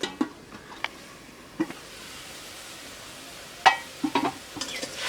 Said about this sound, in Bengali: এখন আমি আবারও খুব সুন্দরভাবে মেরে চেরে পানির সঙ্গে সম্পূর্ণ মশলার উপকরণগুলি মিক্স করে নিচ্ছি